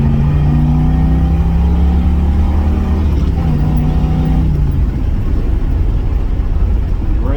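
A 1978 Pontiac Trans Am with a 400 engine and four-speed, heard from inside under a steady loud drone as it accelerates, the pitch climbing for several seconds before easing into rougher cruising noise.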